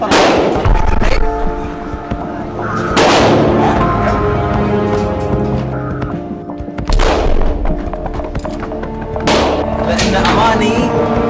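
Gunshots at an outdoor shooting range come as a few loud, spaced reports with booming echoes, while a voice talks between and over the shots.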